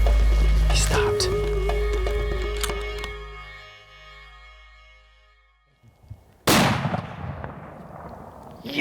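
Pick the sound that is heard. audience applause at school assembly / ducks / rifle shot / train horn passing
rifle shot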